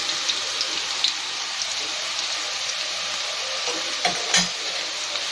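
Onions sizzle steadily in hot oil for a chicken biryani, with a few scraping stirs of a spoon against the pan near the end, close and continuous.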